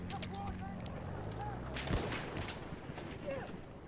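In Battlefield 1, a heavy tank's cannon and artillery boom among rapid gunfire, with one strong blast near the middle standing out over steady battle noise and scattered voices.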